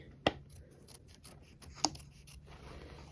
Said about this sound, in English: I'll use my hoop scissors mini and trim close to that tack down stitching